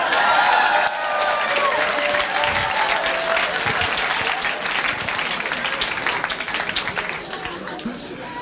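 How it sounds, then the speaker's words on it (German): A live comedy crowd in Zürich breaks into loud, sustained applause, dense clapping with some cheering that carries on without a pause before easing slightly at the end. "Nochmal einen Applaus für den Baschi!"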